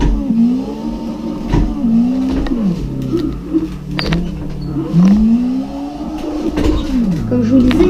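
A Camaro engine in CarX Drift Racing on PlayStation revs loudly, its pitch climbing and dropping again and again as the throttle is worked.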